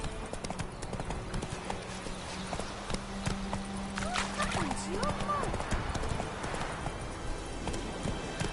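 Horse hooves clip-clop at a steady trot in The Witcher 3, with a brief whinny midway and a voice talking over the hoofbeats, all set against game ambience.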